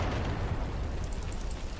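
A rocket launcher fires in Garry's Mod with the Wiremod addon, a single dense, roaring blast that fills the whole moment, loud and close, with a brief crackling tail and no voices.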